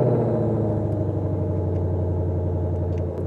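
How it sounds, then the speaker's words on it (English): Ford Mustang Shelby GT500 with a Borla Attack exhaust idles with a steady, deep, loud rumble that holds evenly for the whole stretch, the low pulsing engine note alone with no voices over it. "You have Borla Attack exhaust."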